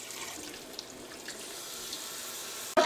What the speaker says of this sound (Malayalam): ഇനി ഇതിലേക്ക് നമുക്ക് കുറച്ച് വെള്ളം കൂടിയും ചേർക്കാം.